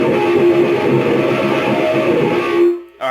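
High-gain distorted electric guitar plays a harmonic-note intro. It is a loud, dense, sustained wash of ringing notes that runs unbroken and then cuts off sharply near the end.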